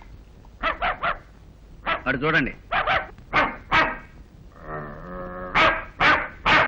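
A man imitates a dog, giving a string of short voiced barks and yips in quick groups, followed by a drawn-out whining howl, then more barks. A brief line of speech is also heard.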